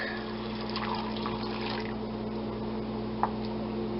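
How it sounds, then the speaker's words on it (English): Hot milk pours from a pan onto garlic in a steady, soft trickle for several seconds over a constant low hum, with a brief clink near the end. "We pour that into our garlic"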